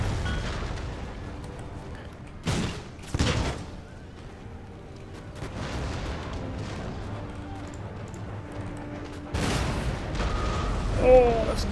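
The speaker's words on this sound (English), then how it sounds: "Oh, that's a devastating shrapnel shot straight into the Westphalian 3rd Regiment of Foot." In the Empire: Total War video game, artillery fires shrapnel shot as a handful of separate booms and bursts. They are spread out with quieter gaps between them and a murmur of battle beneath.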